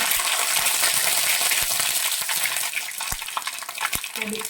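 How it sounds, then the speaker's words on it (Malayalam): Mustard seeds tipped into hot oil in a pan, a dense hiss of frying with several sharp pops and clicks scattered through, close and fairly loud, no talking. "കടുക് എണ്ണ ചൂടായിട്ടുണ്ട് കടുകിടാം"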